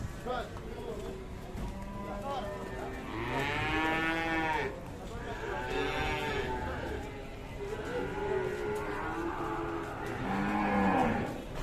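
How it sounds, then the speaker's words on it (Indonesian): Cattle being loaded at a livestock market low and moo repeatedly in long, drawn-out calls, some close and loud, overlapping with people talking nearby. "sekarang sudah mulai muat sapi-sapi hasil buruan di tempat ini"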